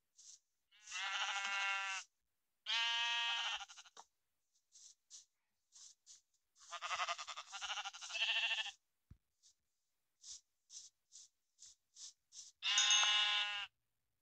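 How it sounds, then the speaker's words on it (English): Sheep in the video game Minecraft bleat repeatedly, with loud, close bleats separated by short pauses and a scatter of faint clicks between them. No one talks. "when I already hear sheep, we can just go kill some sheep."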